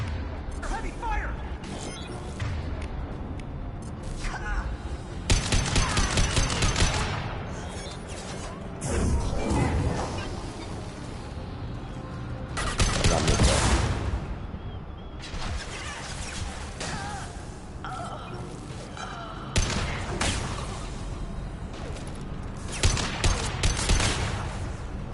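Heavy gunfire in Mass Effect 2 Legendary Edition, with dense volleys of shots and crashing impacts coming in waves, plus voices calling out over the battle.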